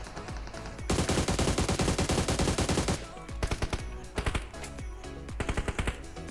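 Rapid automatic gunfire from a PUBG Mobile match: a dense sustained burst of shots, then a pause and several shorter volleys, loud and close, with only faint voices underneath.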